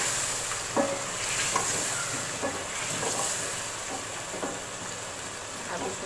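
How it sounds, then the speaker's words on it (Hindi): Chicken pieces fry with ginger garlic paste in a pan for korma pulao, a low steady sizzle with occasional scraping stirs, moderately quiet and close, no talking. "इसको थोड़ा सा फ्राई करूँगी चिकन को"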